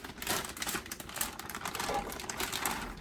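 A bag of thawed Aldi steamed broccoli stir fry being cut open in a kitchen, giving a steady, close crinkling and rustling of plastic for about three seconds with no talk.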